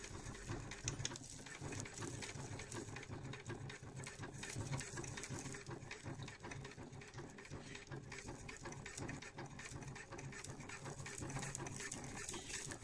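A sewing machine runs steadily in a zigzag stitch, joining long bundles of dry grass to make camouflage for a DIY duck blind; the whirring hum carries on close and unbroken for the whole span, with no talking.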